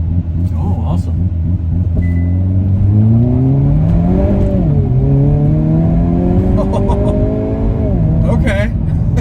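Hyundai Kona N roars through a launch control start, its engine droning low and rising in pitch as it accelerates hard through gears, loud and close throughout.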